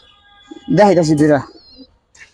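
Pigeons in a breeder's collection of Miraj, Lal Pawi and silver birds give a single close, throaty cooing call lasting under a second, with brief faint rustles before and after.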